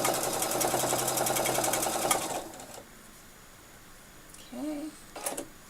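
A Sensormatic sewing machine stitching free-motion quilting along a ruler runs with a fast, steady mechanical whir for about two seconds, then stops, followed by quiet handling and a couple of brief clicks.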